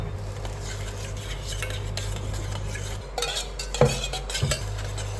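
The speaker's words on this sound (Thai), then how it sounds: "ใช้ช้อนคน เวลาต้มแยมจำไว้ใช้ช้อนคน" A spoon stirs apple jam simmering gently over low heat in a pot, scraping and clinking softly against the metal in a steady close rhythm with a faint sizzle and no talking.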